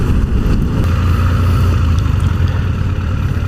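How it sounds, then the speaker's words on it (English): A motorcycle larger than 169cc accelerates hard, its engine a loud, continuous low drone that holds steady throughout with no voices over it. "with this bike I start accelerating and almost immediately"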